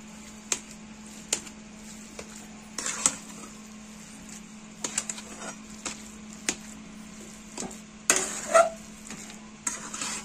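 A spoon stirs and mixes potato vegetable filling with curry leaves and chillies for batata vada, giving scattered scraping and tapping knocks against the bowl over a low steady hum, with a brief louder clatter near the end.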